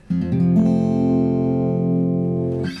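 A single guitar chord strummed open in low open F tuning rings out low and full, sustaining for a couple of seconds before it is damped.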